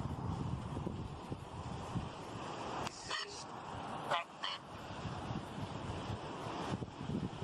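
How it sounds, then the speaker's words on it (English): Wind blowing outdoors at a reputedly haunted site in Ireland, a steady low rumble buffeting the microphone throughout, with a few brief higher sounds breaking through in the middle. "the wind"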